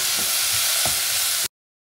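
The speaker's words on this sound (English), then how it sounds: "We're gonna give it a stir like this." Chopped spring onion with red and yellow peppers stirred in a hot frying pan, a steady close sizzle with a couple of soft scraping stirs before cutting off abruptly.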